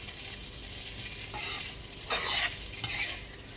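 Vegan spaghetti with vegetables, garlic, salt and pepper being mixed in a pan with a little neutral vegetable oil, a steady frying hiss with a few stronger bursts of scraping and stirring, close and without speech.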